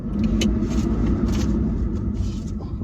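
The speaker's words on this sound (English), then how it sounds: "Volvo aircon coming on strong." Blower of a Volvo car's air conditioning running hard inside a classic car cabin, a steady loud broadband whoosh with low rumble that holds constant for the whole stretch.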